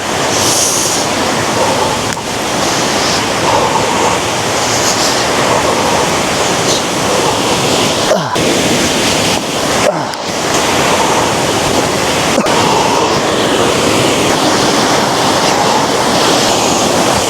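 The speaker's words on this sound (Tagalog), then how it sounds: "Yan na yung falls" A steady, roaring rush of falling water fills the air without pause, with occasional gusts of wind buffeting the microphone.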